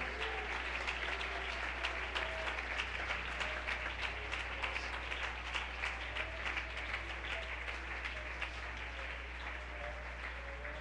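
A church congregation applauds in praise during a Spanish-language sermon on the birth, death and resurrection of Jesus, a steady, even patter of many hands held at a low, distant level over a constant low hum, with no voices.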